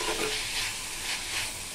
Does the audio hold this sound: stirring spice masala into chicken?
yes